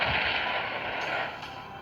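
A missile strike explodes in an animated battle scene, a loud broad boom with a rushing roar that fades slowly over under two seconds, with no voices.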